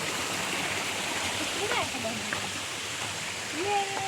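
Spring water pours steadily from a village spout fed from beneath tree roots, a continuous hissing rush with faint whistles and distant sounds over it.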